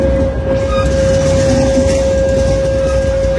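The Benapole Express intercity train from Dhaka rolling past near Shyampur rail gate, a loud close steady rumble of wheels with a sustained tonal whine throughout.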